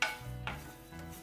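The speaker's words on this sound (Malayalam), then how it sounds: "ഇതൊന്ന് വറുത്തെടുക്കട്ടെ." Masala spices roasting in a pan for a tomato chickpea curry, with faint stirring scrapes and light crackle, close and quiet, with no talk.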